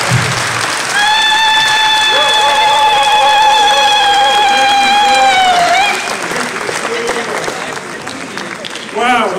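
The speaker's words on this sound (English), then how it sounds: "Let's give a warm applause again." An audience applauds at the closing remarks of a formal conference, with sustained loud clapping throughout and a high, steady whistling tone over the first half before the applause thins.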